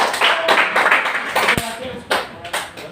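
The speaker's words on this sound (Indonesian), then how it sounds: "Beri tepuk tangan dulu untuk Alfred." A classroom of students claps during a history teaching practice lesson in Indonesia, a loose, uneven burst of a few hands clapping in separate bursts, with voices mixed in and some sharp taps.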